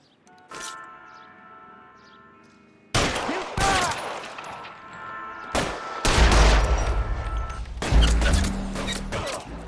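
Gunfire in L.A. Noire, a police shootout with a series of sharp shots and heavy impacts following a quieter opening, growing denser and louder toward the end.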